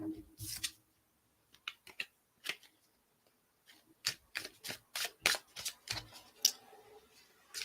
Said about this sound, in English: We'll shuffle it whilst we're chatting.